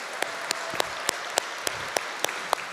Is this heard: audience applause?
yes